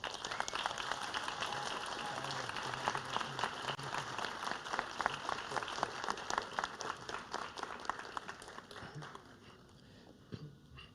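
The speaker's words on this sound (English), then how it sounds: "Let's give Dalia a round of applause." A large crowd applauds at an academic excellence awards ceremony: dense, sustained clapping that holds steady for most of the stretch, then thins and fades near the end.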